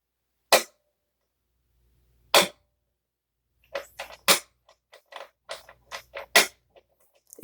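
Pickup selector switch on a Gretsch guitar flicked several times, sharp isolated clicks with pauses, then a quicker run of lighter clicks, close and dry in a quiet room.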